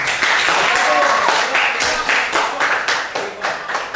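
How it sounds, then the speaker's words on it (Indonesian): A classroom of high school students in a physics lesson breaks into quick, rhythmic group clapping, loud and close, with a voice briefly heard underneath. "Oke, tepuk tangan buat kalian semua."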